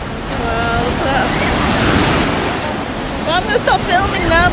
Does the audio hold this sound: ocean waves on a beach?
yes